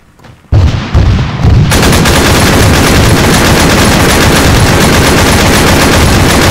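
A machine gun in Arma 3 fires one sustained, very loud burst of rapid shots that starts after a brief quiet moment and carries on to the end.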